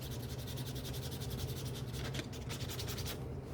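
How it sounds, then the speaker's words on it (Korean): Quick repeated back-and-forth rubbing of fine sandpaper on the leather edge of a Gucci bag, a close, soft, rhythmic rasp continuing steadily without any talking. "부드러운 사포로 해서 여러 번 샌딩을 해줍니다."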